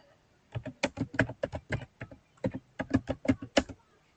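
Close, crisp typing on a computer keyboard while entering network configuration commands, roughly two dozen distinct key clicks in quick irregular bursts with a short pause near the middle, heard alone.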